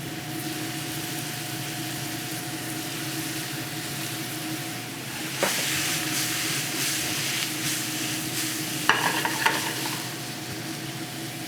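A mixture seasoned with pepper sizzles steadily in a pan during French cooking, with occasional scraping strokes of a utensil stirring it and no talking.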